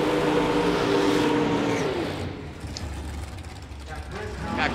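Top sportsman drag cars launch in the final round at the NMCA All-American Nationals, with a loud engine roar that fades away over about two seconds, leaving quieter ambient noise before sound builds again at the end.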